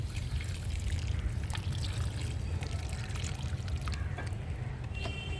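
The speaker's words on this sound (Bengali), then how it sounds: "এবার আমি কিন্তু টপটা ভর্তি করে কিন্তু জলটা দিয়ে দেব" Water is poured into a pot holding a freshly planted hibiscus, filling it to the top: a steady, close trickling and splashing with a low rumble beneath, continuing unbroken throughout.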